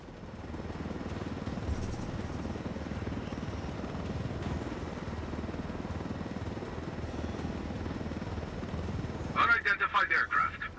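A helicopter in the video game Ghost Recon Wildlands keeps up a steady, close rotor drone throughout, joined near the end by a brief crackly radio-like burst of sound.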